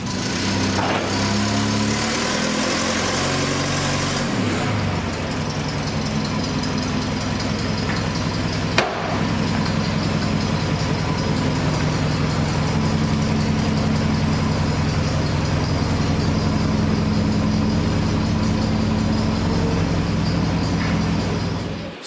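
A car engine runs steadily and close by while the car is pulled inside during engine bay prep on an EG build. The idle holds a constant low drone with a brief revving shift near the start and no talk.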